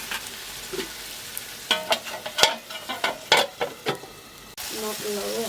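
Chicken fry being stirred in a hot pan, with a spoon scraping and clattering in irregular bursts over a steady close sizzle of frying oil; no one speaks.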